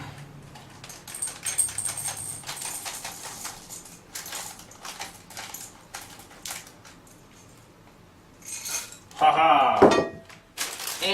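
Semi-sweet chocolate chips, a half cup, poured into a mixing bowl for vegan oatmeal chocolate chip cookies with pecans, giving a rattling clatter of chips that peaks in a loud burst near the end, with faint clinks of utensils and dishes before it.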